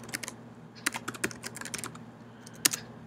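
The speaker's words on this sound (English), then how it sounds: "what I'm going to do is type in my email address" Soft, close computer keyboard typing as an email address is entered, with irregular clusters of light key clicks and one sharper tap near the end.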